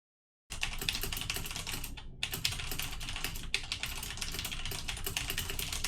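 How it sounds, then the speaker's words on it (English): After a moment of silence, loud, rapid clacking of a computer keyboard starts, with a brief pause partway through before the typing continues. "This time, I'm going to type loudly into my keyboard."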